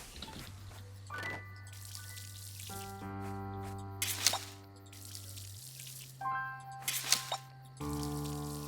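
Watering crops in the farming game Verdant Skies: splashy dripping water effects rise in a few short bursts over steady, sustained background music.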